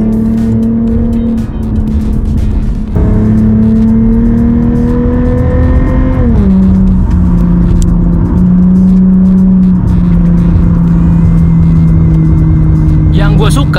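A car's engine revs up and pulls hard through a tunnel on a road trip from Jakarta to Surabaya, its steady drone climbing and shifting in pitch, loud and close, with the enclosed echo of the tunnel around it.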